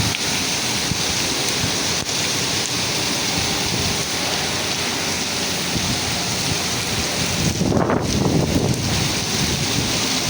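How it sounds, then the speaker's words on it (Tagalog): Heavy typhoon rain at night in Naga City, a dense continuous hiss of downpour with wind buffeting the microphone, plus a brief louder whooshing gust near the end, with no voices. "Malakas pa rin ang ulan."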